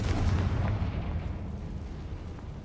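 A Confringo fire spell explodes in Hogwarts Legacy, a loud, close blast with a deep, booming low end that rolls off into a fading rumble over a couple of seconds.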